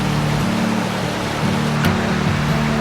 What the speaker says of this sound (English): the sound of rushing water in a setting like this tends to wash away all my worldly